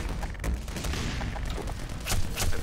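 Rapid bursts of gunfire crackle through a Black Mesa warehouse firefight, with fast repeated shots and sharper cracks toward the end, fairly loud and mixed with game noise.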